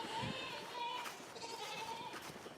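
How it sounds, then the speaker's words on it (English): Goats bleating inside a homestead barn during a snowstorm, two or three wavering bleats at close range, loud and clear, with a faint human voice behind them. "The goats still want to be fed"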